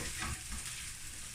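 Onions sizzle and fry in a hot pan for chicken fried rice, a soft, steady crackling hiss with faint stirring scrapes near the start.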